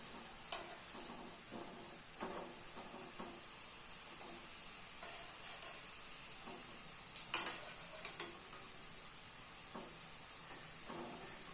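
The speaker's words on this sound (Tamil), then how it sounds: "இப்போ முறுக்கு ஒரு பக்கம் வெந்துக்குச்சு திருப்பி போட்டுக்கலாம்" Millet and mint murukku fry in hot oil as they are flipped, a faint steady bubbling hiss with scattered soft ticks and light utensil clinks, quiet and without speech.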